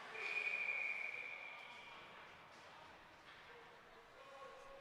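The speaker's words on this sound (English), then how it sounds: "a whistle blows after 19 seconds have gone by on this PP" A referee's whistle blows during a high school ice hockey power play, one sharp tone in the first second and a half, ringing over arena crowd murmur and rink noise.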